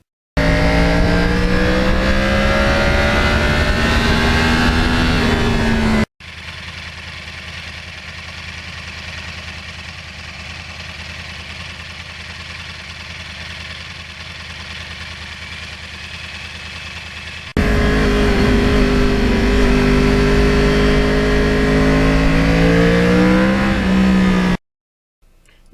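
A one-owner 2009 Yamaha R1 crossplane sport bike with 35,000 miles rides hard in a straight line, its loud engine revving and accelerating up close, then dropping to a steadier, quieter drone before surging loud again.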